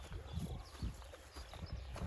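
Draft horses on an outdoor pasture give off low, soft thuds and shuffling hoof sounds at close range, with an uneven stepping rhythm and no clear talk.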